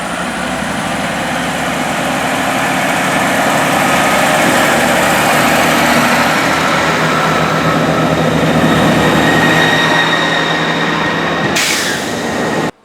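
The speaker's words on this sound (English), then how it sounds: "a Chiltern Railway unit departing Wilmcote Station" A Chiltern Railways diesel train rumbles steadily out of Wilmcote Station, its engine drone and wheel noise loud and continuous, ending with a brief burst of higher noise.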